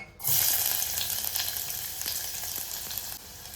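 Onion drops into hot oil in a pan, bursting into a loud sizzle that starts abruptly and then settles into a steady, slightly fading crackle with small pops.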